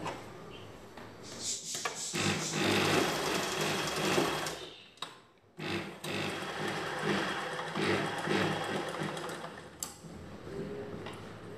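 A sewing machine stitching a blouse piece runs in steady, close bursts of rapid mechanical whirring, with a brief stop midway before it starts up again.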